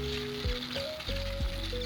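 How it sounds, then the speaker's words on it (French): Sweet potato sizzles in a pan, a soft steady crackle and hiss close by, with a few low thumps and tonal hums layered over the frying noise. "ma patate elle est en train de faire du bruit"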